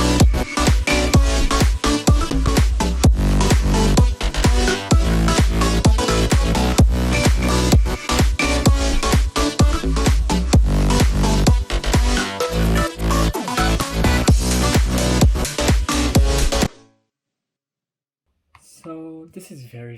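A future bounce electronic dance track plays loud and dense, with punchy, driving beats and bright synth layers. It cuts off abruptly near the end, followed by a short silence and a faint brief sound.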